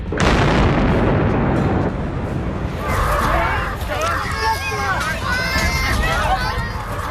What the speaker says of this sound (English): there was a terrifying explosion